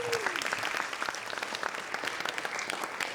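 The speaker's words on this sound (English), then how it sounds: "Please give an applause to Montclair BID." A theater audience at a storytelling night applauds, a full, even patter of many clapping hands holding steady throughout, with a faint whoop near the start.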